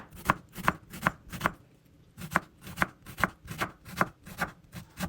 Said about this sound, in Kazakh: Енді 1 дана пиязымызды алып, мұны да ұсақ етіп турап аламыз.